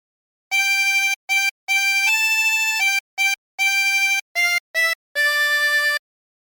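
A harmonica plays a short phrase of Waltzing Matilda with bent notes, clean separate blown and drawn tones of uneven length and several bends, solo against silence.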